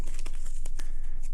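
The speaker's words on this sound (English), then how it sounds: "Shuffle your deck up really good." A deck of playing cards is shuffled by hand, giving a close, busy riffle of papery flicks and crackles with a few sharper snaps through the short burst.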